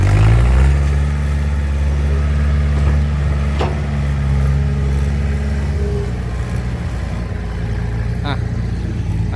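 A tractor drives along cutting a track, its engine a steady, loud low drone throughout, with a short whine near the end.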